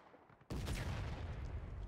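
Musket volley gunfire erupts in the Civil War game War of Rights on a battlefield map: a sudden dense, rolling crackle of many shots that begins after a quiet half-second and keeps going, heard from some distance.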